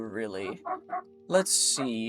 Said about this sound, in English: if you guys can hear the dogs barking